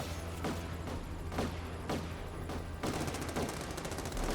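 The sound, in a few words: gunfire shooting at the player in The Amazing Spider-Man 2 video game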